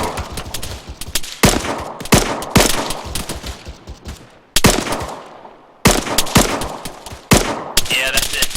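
Machine gun fire in Arma 3 with tracer rounds loaded, sharp bursts and heavy volleys recurring through the clip, some close and loud, others trailing off with echo, amid a wider firefight.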